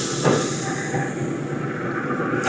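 A steady, harsh hiss of water steaming on a hot grill, close and continuous, with a brief sharper burst near the start.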